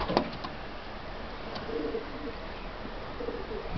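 Pigeons at a loft coo softly in a few low, rolling phrases over a steady background hiss, fairly faint and distant, with no talking.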